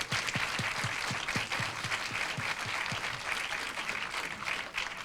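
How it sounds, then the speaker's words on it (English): Audience applause for film guests Karina Miller, Melanie Lynskey and Jason Ritter at a Gold Coast festival Q&A, a steady dense clapping from a full room, loud and sustained throughout without talk. "another round of applause for Karina Miller and Melanie Lynskey and Jason Ritter"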